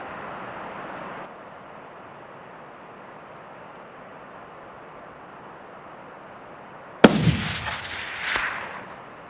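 During a Dall sheep hunt in Alaska, a single sharp rifle shot cracks loudly out of quiet open-air ambience, then rolls away in a long, fading echo.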